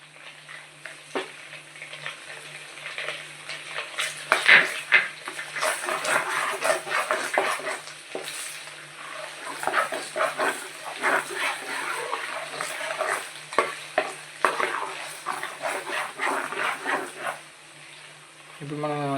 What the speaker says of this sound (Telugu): ఇందులో మనం కరివేపాకు వేసుకోవాలండి